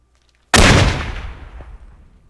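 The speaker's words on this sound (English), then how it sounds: "Fantastic grenade there" A grenade goes off in a first-person war game, one sudden loud broadband blast with a long rumbling decay that fades over about two seconds.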